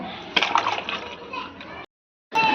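Water sloshes and splashes inside a greasy oil can being rinsed, a close, continuous gurgling wash that briefly stops and then resumes, with a voice heard faintly.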